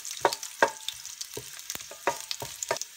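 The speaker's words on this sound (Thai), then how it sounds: "ผัดกระเทียมให้พอหอมก่อน" Garlic stir-frying in a pan: a steady sizzle broken by repeated sharp scrapes and clacks of a spatula, close and fairly loud, no talking.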